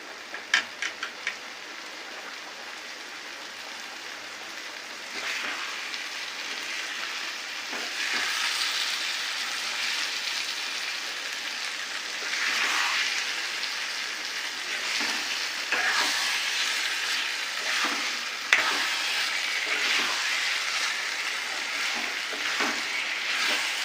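Eggs cooking in an egg curry over a high flame, a steady bubbling sizzle that grows louder after a few seconds, with occasional light stirring clicks and one sharp tap near the end.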